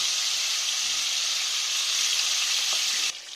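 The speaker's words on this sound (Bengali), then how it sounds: "এবার আমি এই মাছগুলো তেলের মধ্যে দিয়ে ভেজে নেব" Fish sizzling steadily in hot oil in a pan, a dense continuous frying hiss at close range that holds level until a slight drop near the end, with no talking.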